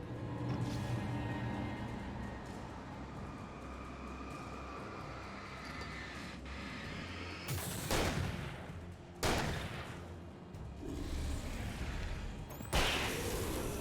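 Gunfire in the video game Alan Wake: three loud, sharp blasts spaced a couple of seconds apart in the second half, over a steady ambient game background.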